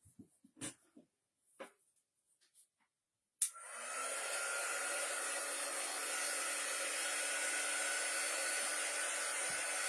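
A hair dryer switches on partway through and runs as a loud, steady close blast for a Halloween craft, after a few scattered handling knocks and taps.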